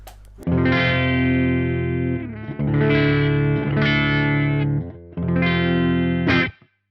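A clean electric guitar with humbuckers plays sustained chords through an Engl Savage Special Edition amp with the bright switch on, in three bright, ringing phrases, each held and then stopped, with no voices.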